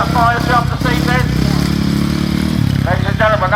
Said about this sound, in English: Ladies and gentlemen, that is the motorcycle fire jump.